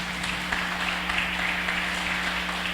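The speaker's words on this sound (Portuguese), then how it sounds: "Vamos aplaudir esse Jesus bem forte." Church congregation applauding during an evening worship service, a steady even wash of clapping at moderate distance over a constant low hum.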